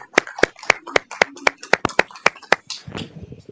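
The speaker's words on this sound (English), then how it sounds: "Let's give Lisa a round of applause." A small group clapping at a quarterly awards gathering, individual sharp claps in a fairly regular rhythm, close and distinct, thinning out into faint murmuring at the end.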